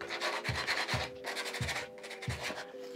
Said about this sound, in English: First, I'm just gonna rough it up with some sandpaper.